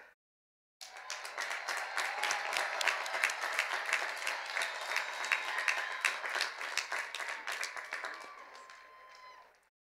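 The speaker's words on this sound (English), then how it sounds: "give your graduates a shout out and a cheer" Audience at the 2018 CSULB College of Education commencement clapping and cheering for the graduates, a dense, loud burst of applause with whoops that rises fast, holds for several seconds and then fades out.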